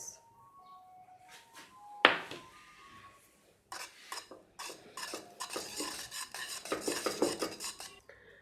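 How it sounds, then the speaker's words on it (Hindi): A whisk is worked through an ice cream mixture in a pot off the heat, giving a close, faint scraping and clinking of metal against the pot that grows busier and more rhythmic toward the end, with no talk. "विस्क चलाते हुए ही मैंने इसको ठंडा करना है"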